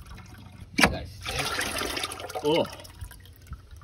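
Gray water from a camper's holding tank gushing and splattering into a bucket in short noisy bursts, with a gurgle near the end and a brief exclamation from a person.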